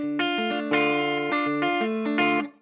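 Guitar chord plucked hard with bent, detuned notes, giving a wobbly, slightly out-of-tune shimmer; four or five quick strikes ring close and clear over under three seconds before fading, with no voices.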